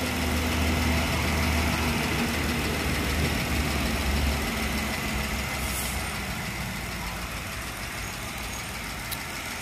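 A 2013 Jeep Wrangler engine idles with the hood open, a steady loud rumble with a fine ticking texture that holds evenly throughout. No one speaks.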